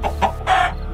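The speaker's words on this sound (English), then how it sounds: "Oh, it's just a chicken!" Cartoon chicken from a Minecraft animation clucking in three short bursts, the last one longer and louder, up close and alone with no speech.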